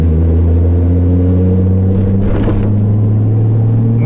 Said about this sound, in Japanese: 環境音としての車の音も